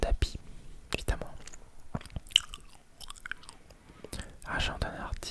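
Gum chewing makes moist, clicking mouth sounds close to the ear. Soft French whispering runs through it during an ASMR crossword session.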